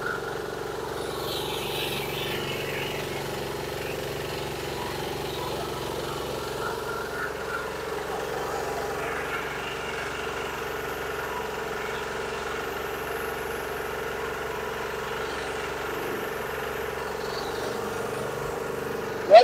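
A PMT-333 mini household rice milling machine powered by a diesel engine runs at a steady, continuous drone with a constant hum and mechanical rattle, unchanging for the whole stretch with no talk.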